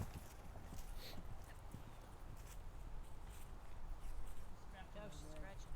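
A horse walks during a riding lesson, its hooves clip-clopping faintly and steadily beneath a muffled, noisy background, with a brief voice near the end.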